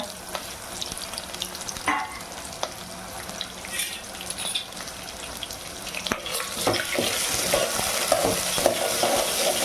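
Peanuts, green chillies and curry leaves frying in hot oil, a steady close sizzle with occasional stirring clinks that grows louder and busier toward the end.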